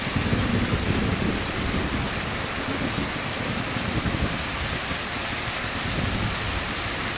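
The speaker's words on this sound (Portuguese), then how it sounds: "Muito barulho da chuva, né?" Heavy rain in a racing video game roars steadily throughout, a dense broadband hiss with a low rumble underneath, loud and continuous with no voices.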